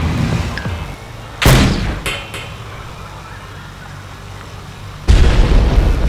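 An RPG bazooka test-fired at a shooting range: a loud sudden blast about 1.5 seconds in with short echoing bursts after it, then a second heavy boom near the end, outdoors and close.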